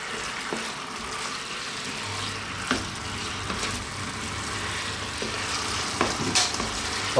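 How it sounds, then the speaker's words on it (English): Chicken wings sizzle and fry in a hot pan on a stovetop as they are stirred through a sticky sauce, a steady crackling hiss close by with occasional scrape and clack of the spoon. "we reintroduce them, and again with the heat on, let's just go for 2 more minutes, coating them in this lovely"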